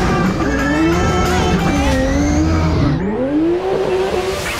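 A race car engine roars and revs continuously as tires squeal through a long drift, the pitch sliding up and down, loud and close.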